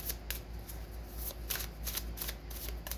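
Tarot cards being shuffled by hand, a quick run of crisp riffling bursts repeating at an even rhythm, close and fairly quiet with no talk.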